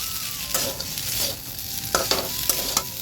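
Jackfruit frying with Maggi masala in a pan, a constant bright sizzle with a few soft stirring scrapes and clinks spread through the short stretch.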